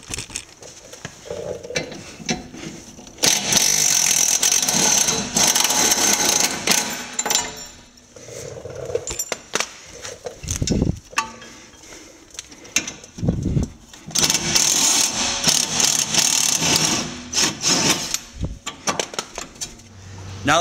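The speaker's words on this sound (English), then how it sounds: "there's two 19 millimeter bolts that connect the knuckle to the strut casing. We're gonna go on ahead and remove those." A tool works the two 19 mm bolts joining a car's steering knuckle to the strut casing, with loud bursts of rattling whir between pauses, close by, and speech heard at points throughout.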